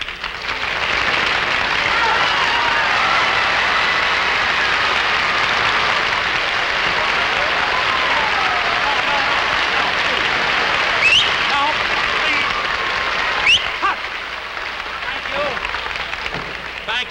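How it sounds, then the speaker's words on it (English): Studio audience applause for comedian Milton Berle at a live 1949 television revue, a dense, loud, sustained wash of clapping lasting the whole stretch, with a few sharper spikes near the end. "For your very wonderful applause."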